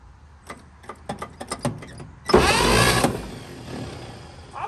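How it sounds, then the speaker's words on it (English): A 1953 GMC 1 ton truck's starter cranks the long-idle engine in a series of uneven clicks and short grinding bursts, then a louder sustained whirring crank for about a second before dropping off, close by with no talk. "It seems like that starter had enough ump to roll it past the spot"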